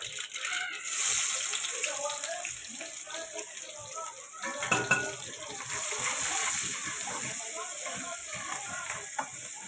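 Onion goes into hot oil with already spluttering mustard seeds, raising a steady, close, crackling sizzle that continues throughout with occasional louder pops and stirring sounds.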